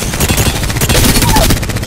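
Rapid automatic gunfire in the video game Apex Legends, a dense, loud burst of shots rattling continuously for about two seconds.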